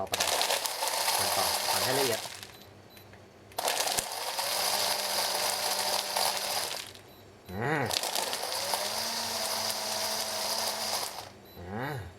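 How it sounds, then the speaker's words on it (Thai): A frappe vending machine's blender whirs loudly in three long bursts, separated by short pauses, with mechanical clicks and a rising pitch at each restart. "เห็นไหมครับ เขาปั่นเลย"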